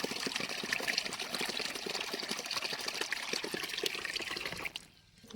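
Water is poured from a bucket for cattle to drink, a continuous close splashing and trickling stream that stops abruptly near the end.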